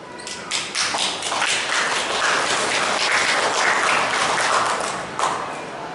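An Indonesian religious gathering's audience applauds two children who have just recited, with a steady, even round of clapping from a crowd in a hall, moderately loud and lasting several seconds.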